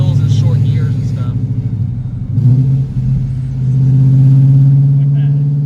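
Supercharged 2012 Ford Mustang GT V8 rumbling and revving up, engine note rising and holding steady at higher RPM, loud and close.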